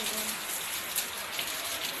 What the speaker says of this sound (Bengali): একটু দেখুন বৃষ্টি কিরম নেমেছে